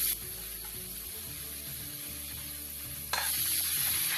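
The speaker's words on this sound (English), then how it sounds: "Continue to stir fry your vegetables." Vegetables stir frying in a hot pan with salt and pepper, giving a steady close sizzle with faint scraping of stirring throughout, growing slightly louder near the end.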